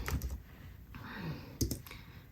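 A computer keyboard with a glitchy habit typed on at close range, giving a short burst of quick keystrokes and louder clacks over about two seconds, with no speech.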